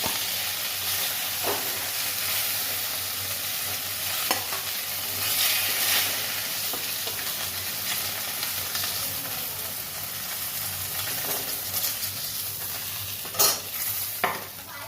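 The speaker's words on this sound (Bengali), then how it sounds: "ঝিঙেটা ভেজে নিচ্ছি" Ridge gourd sizzles as it fries in a pan, with a steady hiss of hot oil broken by repeated scraping strokes of a stirring spatula, close and fairly loud, with no talking.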